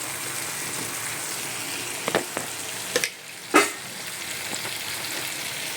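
Green chili paste ground with black cumin sizzles steadily in a pan as turmeric is stirred in, with a few soft clinks and scrapes from the spoon against the pan.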